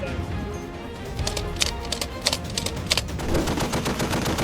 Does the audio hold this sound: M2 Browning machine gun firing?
yes